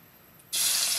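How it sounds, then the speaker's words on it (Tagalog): Garlic hits a hot pan for Filipino pork adobo with humba, setting off a loud, steady sizzle that bursts in abruptly halfway through after a faint lead-in. "ilalagay ko na po ang bawang"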